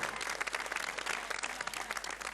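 A studio audience on a Cameroonian television talk show bursts into sustained applause, a dense, even wash of many hands clapping without pause for the whole stretch.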